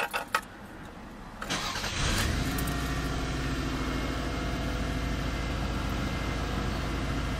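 A 1990 Toyota Camry LE V6 engine cranks briefly, catches and settles into a steady, smooth idle that hums on for several seconds, close and moderately loud.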